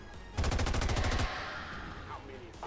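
Rapid automatic gunfire in XCOM 2, a burst of about a dozen sharp evenly spaced shots lasting under a second, followed by a fading ringing tail and faint game ambience.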